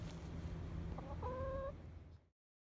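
Chickens in a cattle-panel chicken coop give a few short clucks and a brief tonal call midway, heard faintly over steady low background noise before the sound cuts off.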